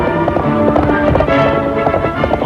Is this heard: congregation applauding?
no